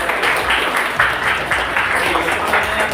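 A group in a scouting-style class clapping game claps together in quick, steady bursts for about three seconds, fairly loud and close, with faint voices mixed in.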